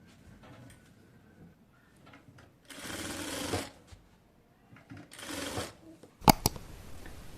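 A sewing machine stitches hijab fabric in two short bursts of rapid mechanical whirring, separated by quiet handling noises, with a sharp clack near the end.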